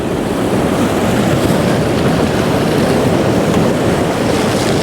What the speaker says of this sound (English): some of these waves are just crashing 10 meters in the air